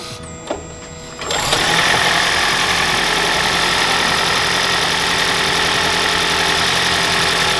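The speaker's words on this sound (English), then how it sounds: "And let's turn the car on." After a brief quiet start, the engine of a 2010-2015 Toyota Prius hybrid with an engine knock turns over and settles into a steady, loud idle with a constant mechanical hum.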